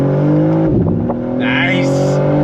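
A 2024 BMW M4 Competition pulling hard in second gear, a loud, close engine drone climbing steadily in pitch with a brief dip midway, as a voice speaks over it.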